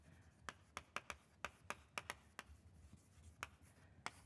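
Chalk or marker tapping and scraping against a lecture-hall board in quick, irregular strokes, close and fairly clear, with no talking.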